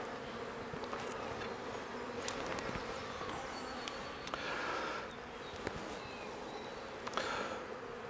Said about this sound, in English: You can see how calm the bees are on the comb.